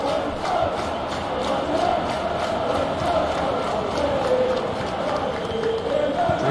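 A stadium crowd roars in a football video game, a broad, sustained wall of chanting and cheering that holds at a steady level throughout, with a commentator's voice over it.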